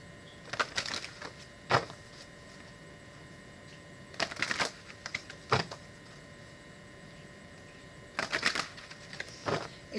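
Crystal oracle cards shuffled close to the microphone in three separate bursts of quick, papery riffling and flicking, with quiet gaps between them and no talking.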